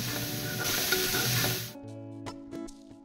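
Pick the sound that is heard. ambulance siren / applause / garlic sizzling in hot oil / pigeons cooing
garlic sizzling in hot oil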